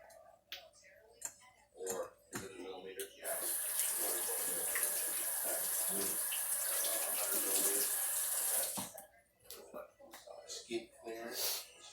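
A kitchen tap runs for about five seconds as hands are washed beneath it, a steady close splash framed by brief talk and small clicks before and after.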